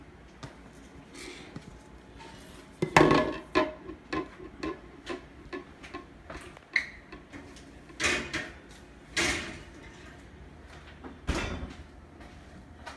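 A chocolate cobbler casserole dish going into a kitchen oven set to 350, a series of scattered clunks and knocks from the oven door, rack and dish, moderately close.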